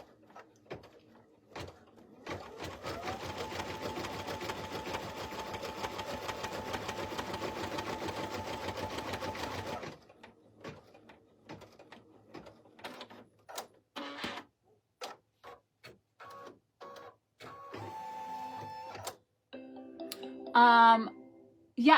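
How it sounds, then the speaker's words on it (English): An embroidery machine stitches the final closing step on an in-the-hoop slap bracelet, a steady rapid mechanical chatter for about seven seconds, followed by scattered clicks, thumps and short whirring bursts as a person speaks. "And I'm gonna run that last step to stitch."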